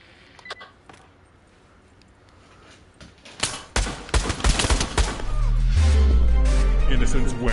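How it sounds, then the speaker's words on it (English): Gunfire from people shooting, starting after a quiet stretch with scattered loud cracks, then building into a dense, continuous barrage while someone talks. "Why are y'all shooting at me, huh?"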